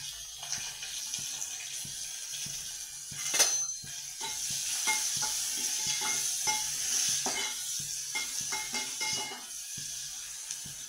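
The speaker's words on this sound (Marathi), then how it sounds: "आता हा आपण चिरलेला कांदा टाकणार आहे तेलामध्ये" Chopped onion sizzling steadily in hot oil in a pan, with occasional stirring scrapes and light clinks over a constant frying hiss.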